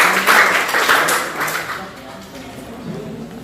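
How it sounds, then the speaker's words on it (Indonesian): Students in a vocational school classroom clap for a group's performance, a loud burst of applause that fades after about two seconds, with voices mixed in. "tepuk tangannya mana untuk kelompok klasik?"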